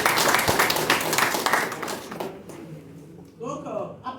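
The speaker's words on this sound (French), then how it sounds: "Merci, applaudissez pour vous." Audience applause at an open-day presentation in Togo, a loud burst of clapping that fades out after about two seconds, followed by a voice speaking.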